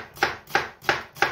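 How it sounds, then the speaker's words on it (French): Half a red onion is chopped finely on a board. Four evenly spaced, crisp knife knocks sound close and clear, with nothing else heard. "notre demi-oignon rouge, on va le ciseler"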